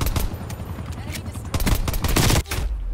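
Rapid gunfire from a Black Ops Cold War match, with a 1911 pistol setup, crackles in dense bursts across the whole stretch, loud and close, with a short gap near the end before the shots resume.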